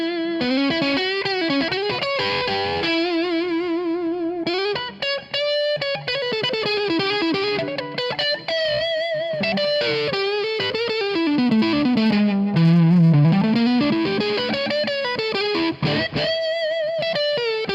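An electric guitar plays through the blackface channel of a Jefferson 100 amp, with an analog Alien overdrive pedal and a Rocket Pedals Boing reverb, giving a continuous distorted melodic line with bends and sustained notes, loud and close.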